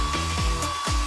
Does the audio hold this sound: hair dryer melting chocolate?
yes